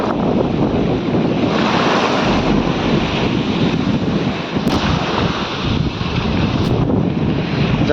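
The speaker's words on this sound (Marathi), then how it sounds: "लाटा पण भरपूर आहे." Loud sea waves crash and roar continuously at Revdanda beach during high tide, mixed with heavy wind buffeting the microphone.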